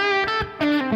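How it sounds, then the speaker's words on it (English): Electric guitar played through a plate reverb inside a Universal Audio interface aux, with a few sustained chords ringing out and a lush, lingering wash of reverb tail, loud and close with no voices. "the reverb you're hearing is from the aux. That's a plate reverb that's inside the universal audio aux."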